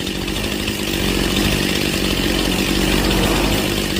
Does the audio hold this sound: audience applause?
no